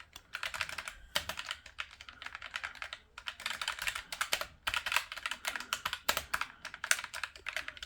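Typing on a Roccat Vulcan II Mini keyboard produces a steady run of close, crisp key clacks in uneven bursts with brief pauses, and no voices.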